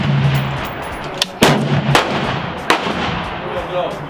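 AR-15 rifle shots fired outdoors: a few sharp, loud cracks spaced irregularly over a steady background rumble.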